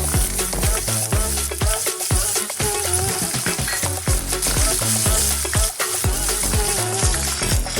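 Cumin seeds and chopped green chilies sputtering in hot oil for dadpe pohe, a loud, dense crackling sizzle with rapid popping bursts close up, continuous throughout with no voices.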